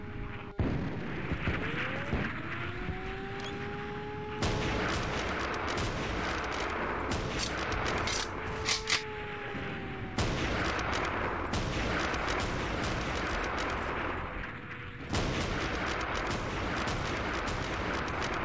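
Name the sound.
rifle gunfire in video game The Principality of Mars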